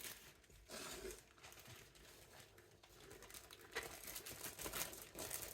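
Crinkly plastic rustling and crumpling of a zipper freezer bag being handled in a kitchen while preparing steak, with irregular soft crackles and small taps, fairly quiet and close.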